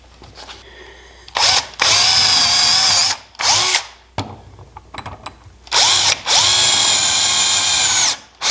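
A power drill pre-drills holes in wood in three bursts, each lasting about one to two seconds, with rising and falling whine. Quiet handling noises fill the gaps between bursts.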